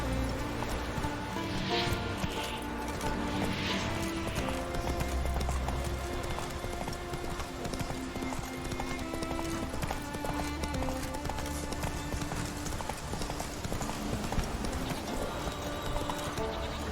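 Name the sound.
horse galloping in video game The Witcher 3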